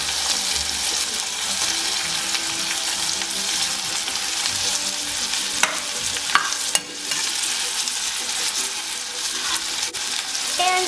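Okra frying in a pan for curry gives a steady, dense sizzle while a utensil stirs it, with a few sharp scrapes and clinks standing out midway and near the end, close and continuous without speech.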